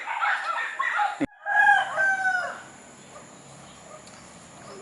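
A rooster crows loudly and close by in a long drawn-out call, briefly broken off, then fading into quiet hum.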